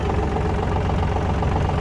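A Yanmar RS27 27 hp mini tractor's diesel engine runs just after starting, a steady close knocking rumble at idle, continuous and fairly loud with no talk.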